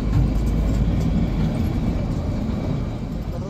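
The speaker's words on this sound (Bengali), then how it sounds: "ট্রেন ধরমপুর স্টেশন ছেড়ে বেরিয়ে যাচ্ছে" The Kalka–Shimla toy train pulls out of Dharampur station with a steady, low rumble of wheels and engine. The noise is close and continuous and fades slightly toward the end.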